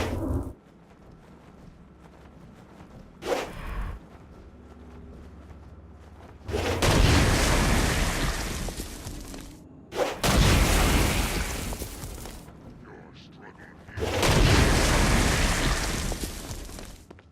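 Stone Blast power explosions in Saints Row: Gat out of Hell, three heavy booming blasts with long rumbling tails and a couple of sharper smaller bangs before them, loud and close.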